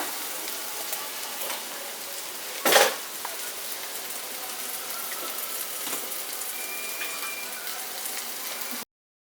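Onions and green chilies frying in a pan for an Indian bottle gourd and tomato curry, a steady soft sizzle with one brief louder clatter partway through, no talking.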